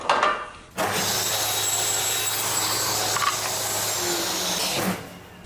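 A saw shaves a thin strip off a wooden precision template, a steady, fairly loud rasping cut lasting several seconds before stopping abruptly.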